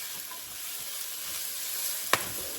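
Collard greens sautéing in a pan give a steady, even sizzling hiss throughout, with a single sharp click near the end.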